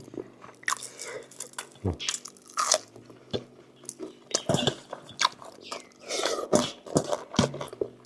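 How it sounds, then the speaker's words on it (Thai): Crispy deep-fried mackerel is chewed close up, with loud crunchy bites and wet chewing in irregular bursts, and a faint voice now and then in the background. "ทอดแบบกรอบประมาณเนี้ย เคี้ยวได้หมดเลยครับไม่ต้องทิ้งนะครับ"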